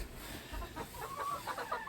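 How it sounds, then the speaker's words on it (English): Hens clucking softly inside a farm coop at sunrise, a cluster of short close calls rising over a steady low background rumble. "This is the chickens, you guys."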